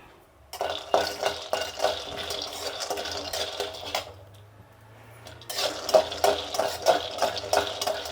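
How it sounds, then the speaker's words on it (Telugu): Peanuts rattle and scrape as they are stirred while roasting dry in a pan on the stove, a busy run of close clinks and shuffles that pauses briefly midway, then resumes. "శనగగింజలు వేసుకుందాము. ఇది బాగా వేయించుకోవాలి."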